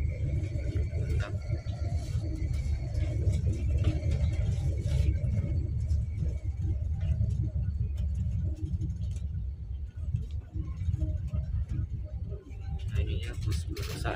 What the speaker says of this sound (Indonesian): Bus perusahaan dari PT Pale ya